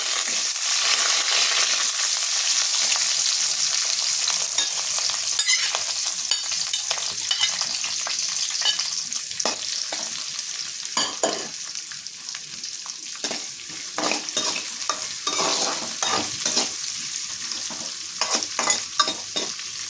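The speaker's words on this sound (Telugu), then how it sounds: "నేను ఒక ఉల్లిపాయ పెద్దదండి కట్ చేశాను, అది వేసేస్తున్నాను" Chopped large onion frying in a pan for a spicy brinjal curry, with a steady loud sizzle and repeated scraping stirs throughout, no voices.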